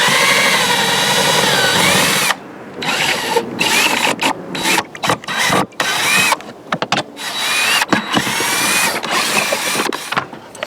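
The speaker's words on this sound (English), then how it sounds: "So I can get my my drill, and hopefully they will come out with any problem here." A power drill backing out 11mm nuts while removing a trolling motor mount, loud whirring bursts broken by short pauses and ratcheting clatter, close up and with no voices.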